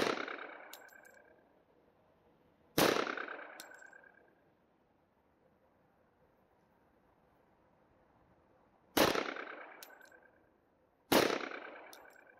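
Four gunshots at an outdoor shooting range, each a sharp, loud crack followed by a long decaying echo, with a few seconds of quiet between shots and two fired close together near the end.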